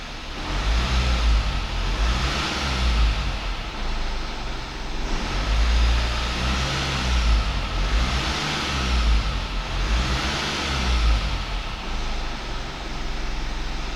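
A Mitsubishi Outlander 2.2 DI-D diesel engine revs in a steady, rumbling cycle, rising and falling roughly every three seconds, close by with no talking.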